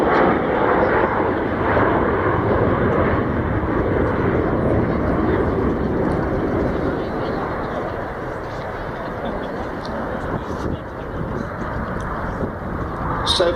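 An Avro Vulcan XH558 bomber flies its display at an airshow in the UK, with a loud, sustained jet roar that fills the air throughout and eases slightly toward the end, while a voice talks beneath it.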